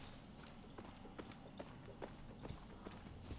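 A spotted horse in Far Cry 6 clip-clops along at a steady walking rhythm, hoof strikes landing roughly every half second, quiet and slightly distant over a low ambient game backdrop.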